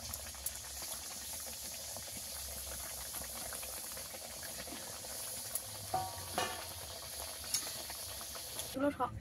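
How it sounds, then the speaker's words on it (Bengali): Nimki dough pieces frying in hot oil give a steady bubbling sizzle throughout, with a few brief stirring clinks near the end and no talking. "এইগুলো ভেজে নেব। এইবারে ভেজে নিলে সব ভাজা হয়ে যাবে।"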